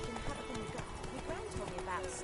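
Horse galloping in The Witcher 3, rhythmic hoofbeats running steadily under continuous game dialogue and music.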